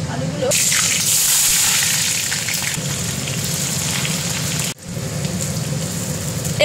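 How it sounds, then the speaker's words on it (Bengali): Boiled potatoes frying in hot oil for chicken biryani, a loud steady sizzle close up with a brief dip partway, voices faintly underneath. "আলুগুলো ভেজে নেব"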